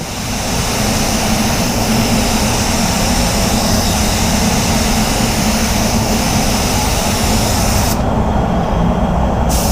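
Spray gun laying clear coat with starter onto a Mercedes-Benz 280SL, a steady loud broadband hiss of atomizing air running continuously throughout, with no talk.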